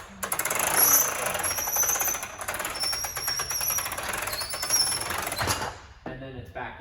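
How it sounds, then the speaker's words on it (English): A 2015 Coachman Clipper 17BH camper's RV awning retracting, a steady mechanical rattling whir with rapid clattering pulses lasting several seconds, fairly close, ending with a brief clunk and quieter tail. "the awning is going to start retracting"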